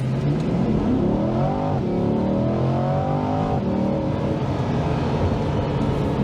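A 2023 Chevrolet Corvette 1LT launches from a full stop toward 60 mph, its engine note climbing in rising sweeps through quick gear changes, loud and close from inside the car with no talk.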